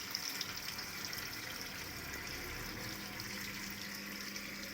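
Water pouring steadily into a Whirlpool washing machine, a faint continuous hiss and gush with a low pump hum, constant level, no voices.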